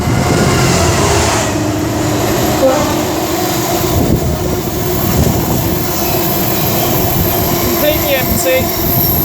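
Train at Lichfield Trent Valley station, with class 66 diesel freight locomotives in the lineup, giving a steady loud rumble and rolling noise with brief faint squeals, while a person talks nearby.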